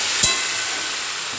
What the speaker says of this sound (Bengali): এই মশলাটা দিয়ে আরও ভালো করে বেশ খানিকক্ষণ কষাবো।